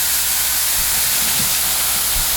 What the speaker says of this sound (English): I've got my 3 crab cakes cooking